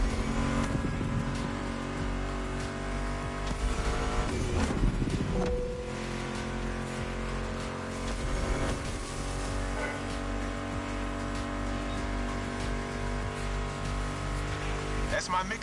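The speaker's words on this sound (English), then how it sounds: "Meshes well with the sound of the engines, you feel me?" Car engines rev in a retro 1980s-style racing video game, a steady mechanical drone mixed under a loud synth music soundtrack that runs throughout, with occasional swells as the engines climb.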